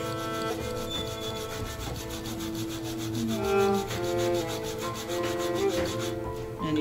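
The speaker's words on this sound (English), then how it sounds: "Sandstone, we're sanding it." Sandstone at the Agra Fort is rubbed and sanded by hand, giving a steady, close abrasive scraping that continues without a break over a constant background hum.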